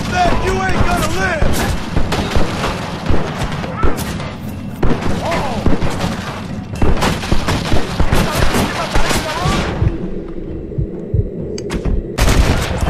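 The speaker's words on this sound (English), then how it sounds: "Quit shooting at me." Repeated gunshots from Red Dead Redemption, a western game, crack out in loud bursts across the scene over a continuous bed of game sound, with a quieter stretch near the end before the firing resumes.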